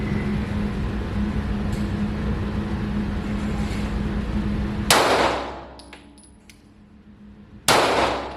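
Two gunshots fired at a target, loud sharp reports a few seconds apart, each followed by a decaying echo over a low background hum.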